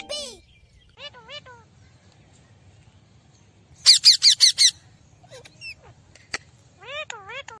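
A parrot squawks and chirps in short bursts, including a rapid loud run of harsh calls midway, with quiet gaps between and a low background hum.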